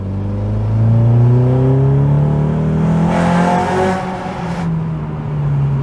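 Honda Accord CL9 fitted with PLM headers and no catalytic converter accelerating hard in a tunnel, a loud rising engine drone with strong echoing reverberation building steadily over several seconds, no talking.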